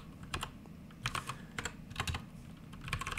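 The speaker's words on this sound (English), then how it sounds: "you can see my awesome typing skills" Typing on a computer keyboard while coding, with irregular bursts of close, crisp key clicks separated by short pauses over a faint background hum.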